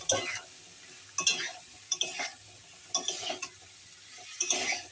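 Drumsticks (sajne data) are being stirred and fried in a pan, with repeated scraping strokes of a spatula and a soft sizzle underneath, close up and alone.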